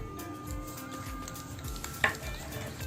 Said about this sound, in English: I'm going to mix it in well